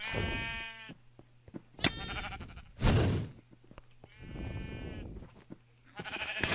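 Several loud, close sheep bleats from Minecraft, with quavering tones, separated by short pauses and sharp clicks and rustles.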